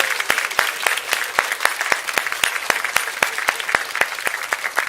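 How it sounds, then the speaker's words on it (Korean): Audience at a Korean church evangelism event claps to welcome four people onto the stage, a loud, steady run of sharp claps that keeps going the whole time with no voices over it. "우리 네 분 나오실 때 큰 박수로 한번 모시면 좋겠습니다."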